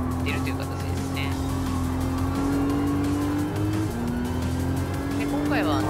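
A race car in Gran Turismo 7 holds a steady, loud engine drone with brief tire squeals, the pitch climbing and dipping as it shifts and brakes through the race.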